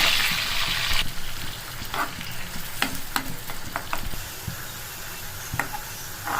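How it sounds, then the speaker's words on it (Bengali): Sliced onion and green chili frying in hot oil left from shrimp, a continuous crackling sizzle with sharp spatula scrapes and taps at irregular intervals, close and fairly loud, no speech. "পেঁয়াজ দিয়ে দিচ্ছি তেলের মধ্যে"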